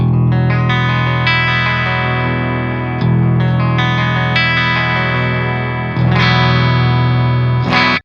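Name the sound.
Schecter C8 Evil Twin 8-string guitar clean tone, bridge pickup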